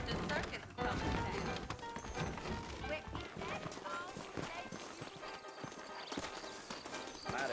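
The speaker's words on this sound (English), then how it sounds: "I got the horses saddled up and ready out front" Horse hooves clip-clop steadily in Red Dead Redemption, a Western video game, as saddled horses move along a trail in the evening. The rhythmic hoofbeats continue throughout, mixed with other game sounds and voices talking.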